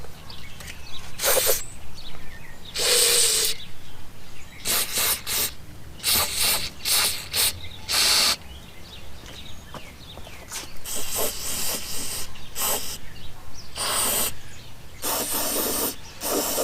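Berryman B12 Chemtool carburetor cleaner sprayed in repeated short, loud hissing bursts into the spark plug holes of a 1968 Evinrude 65 hp Sportfour V4 outboard engine, with brief pauses between sprays.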